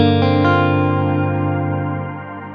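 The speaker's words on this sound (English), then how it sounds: "and Strymon do this pretty much better than anyone else. They've nailed this shimmer." Shimmering guitar reverb from a Strymon Nightsky pedal: a dense sustained chord wash with stacked pitch-shifted overtones, a couple of soft attacks near the start, then a long tail slowly fading, no voices.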